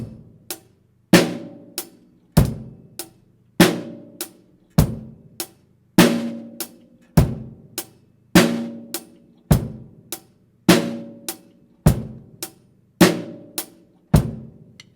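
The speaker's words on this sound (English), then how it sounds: "Bass on 1, snare on 3, your hi-hat is all 4." A drum kit plays a slow, steady beat with bass drum on the first count, snare on the third and hi-hat on every count, played alone at a moderately loud level with crisp, evenly repeating hits.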